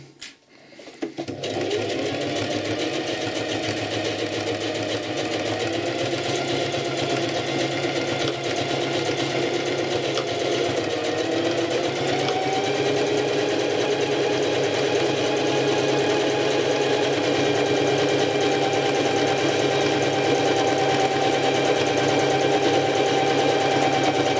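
A sewing machine stitching a patch onto torn denim jeans starts up and runs loud, steady and continuous for over twenty seconds with a constant mechanical whirr and no speech.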